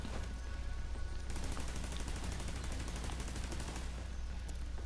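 Rapid, continuous automatic turret fire from the video game The Division 2 rattles steadily throughout, dense and unbroken over a loud game background.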